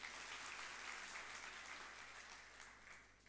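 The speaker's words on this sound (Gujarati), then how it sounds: "યુનિવર્સિટીમાં તાળીઓથી એમનું સ્વાગત કરો" An audience at a Govind Guru University youth festival gathering applauds to welcome a guest, a steady, fairly distant wash of clapping that runs the whole time and fades slightly toward the end.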